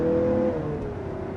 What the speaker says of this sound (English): You can hear the turbocharger too. Just some enthusiastic driving.